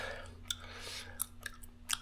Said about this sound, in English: Some people say I chew this gum too much.